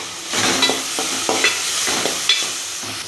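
Tomatoes sizzle steadily in a hot pan for chicken gravy while a utensil stirs and scrapes with irregular knocks, no voices.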